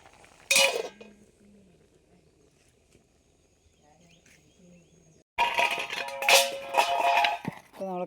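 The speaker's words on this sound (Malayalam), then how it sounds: "എല്ലാം ഒന്ന് ഇളക്കി കൊടുക്കുന്നുണ്ട്" Vegetable pieces for pulissery curry being stirred in a pot at home, two bursts of metal spoon scraping and clinking against the pot separated by a quiet stretch with faint birds and insects outdoors.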